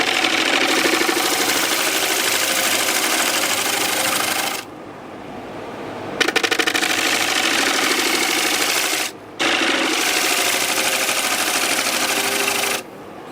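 A bowl gouge cuts a punky pine fruit bowl spinning on a wood lathe, making a loud, close, scraping roar in long passes separated by brief pauses.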